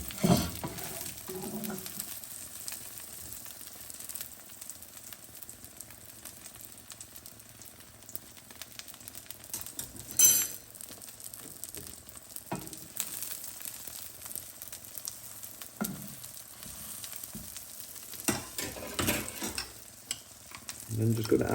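Korean rolled omelette egg sizzling in a pan as it is pulled back with a utensil, a quiet steady frying hiss with occasional scraping and tapping, no talk.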